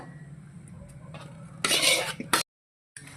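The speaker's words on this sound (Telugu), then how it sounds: "సో ఇప్పుడు ఈ గుజ్జుని మొత్తాన్ని ఇందులో కలిసి ఇలా బాగా కలిపేసుకున్నాం" Amla pickle with turmeric and tamarind pulp is stirred in a pot, heard as a loud, close scraping, squelching burst after quieter handling sounds, then a moment of silence.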